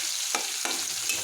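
A small amount of onion frying in oil in a pan for a Bengali katla fish curry, a loud continuous sizzle with a few scraping stirs of the spatula, close up.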